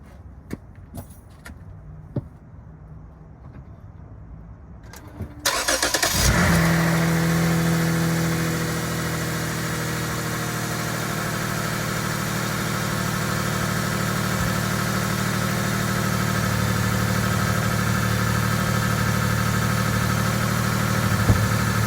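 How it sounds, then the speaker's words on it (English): A few clicks and jingling keys, then a car engine with a replaced exhaust cranks and catches, settling into a loud, steady idle that continues to the end. "I'm gonna start the car."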